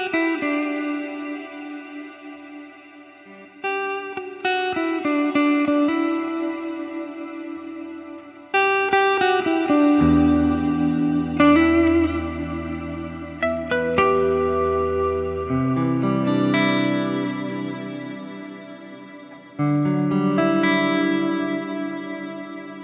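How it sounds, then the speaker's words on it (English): An electric guitar through a clean amp model with reverb on a Line 6 Helix running firmware 3.15, sustained chords and single notes ringing out with long, lush decaying tails, played alone and up close. "I'm gonna be playing with that reverb"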